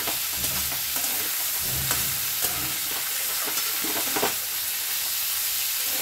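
Salt and turmeric are stirred through hot oil in a frying pan: a steady sizzle runs throughout, with scraping strokes of the spoon across the pan surfacing every second or so.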